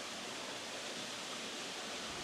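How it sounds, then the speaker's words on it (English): A waterfall at a landscape photography location roars as a steady, broadband rushing wash of falling water, continuous and even throughout with no voices. "The waterfall is behind me"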